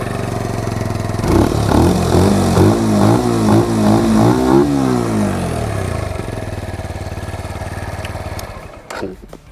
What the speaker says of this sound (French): Un joli petit pot d'échappement saucisson, on peut tester la sonorité.